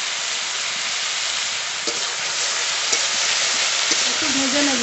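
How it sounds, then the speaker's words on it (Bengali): Taro stolons (kochur loti) fry in a pan with a loud, continuous close sizzle, broken by a few faint taps and a light tonal sound near the end. "কচুরলতি একটু হালকা করে ভেজে নিয়েছি"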